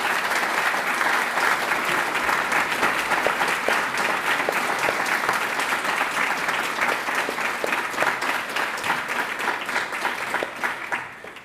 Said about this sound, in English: So give a round of applause to our heads of the language department.